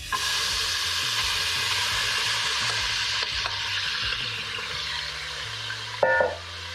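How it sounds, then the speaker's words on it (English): Continuous loud sizzling and crackling of bacon frying in a pot, steady throughout, with a brief scrape or clank of metal near the end. "now we got this bacon going just like we would in the frying pan"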